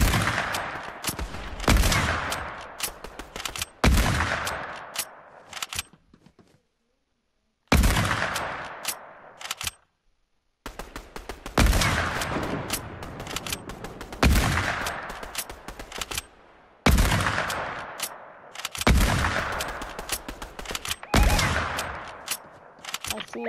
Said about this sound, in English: Shooting until I get no scope.